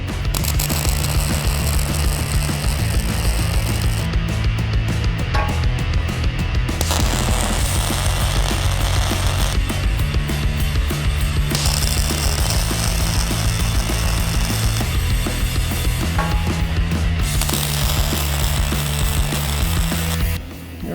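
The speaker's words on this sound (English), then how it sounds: "Sometimes if you can get that weld quick enough, it will start pulling on the other side as you start welding." Steady, loud crackling buzz of an electric welder laying tack welds on a steel horseshoe puzzle. It runs continuously in long bursts with brief shifts in tone, and no voices are heard.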